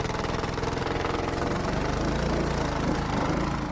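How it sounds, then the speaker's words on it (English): Mud motor on a paddleboard skiff running steadily, a close, loud, buzzing engine drone with a fast throbbing pulse and slight rise in pitch, alone without talk. "The acceleration of the motor is actually really good."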